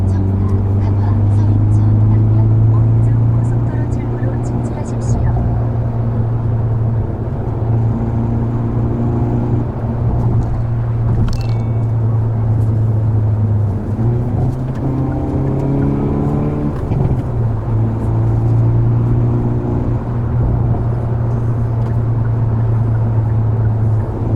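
Hyundai Veloster N with performance pack, rated around 275 horsepower, accelerating in city driving: a steady, loud engine drone with rising and falling pitch throughout, while someone talks over it.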